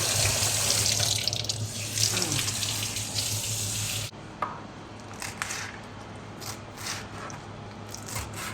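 Chickpeas washed under a running kitchen tap, water gushing loudly into the sink before easing to softer splashing and wet squishing as they are rinsed.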